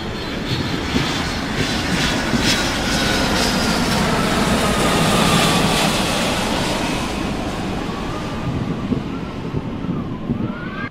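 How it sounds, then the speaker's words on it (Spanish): A private jet streaks across the sky at high speed, a loud, steady engine roar that rushes on without a break for several seconds, with no talking. "Un jet privado que surcaba los cielos a gran velocidad"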